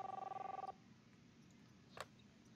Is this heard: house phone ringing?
yes